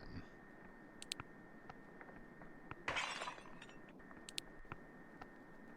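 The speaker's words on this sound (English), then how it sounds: "Is that glass breaking?" Glass breaks in a horror video game as one brief, faint crash with scattered tinkling. It sits against a low, rumbling ambient background with occasional small clicks.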